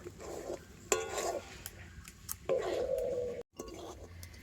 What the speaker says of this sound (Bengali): একেবারে হালকা জাল দিয়ে তো সুজিটাকে কন্টিনিউ নাড়াচাড়া করে নেব।